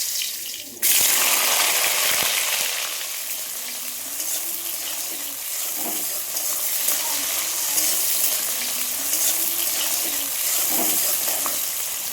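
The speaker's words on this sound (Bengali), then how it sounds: "প্রথমে আলুটাকে ভাজলাম বেজে নিলাম" Potatoes frying in a pan for a goat-meat curry give a steady close sizzle throughout, with faint background music-like tones and occasional clinks, no one talking.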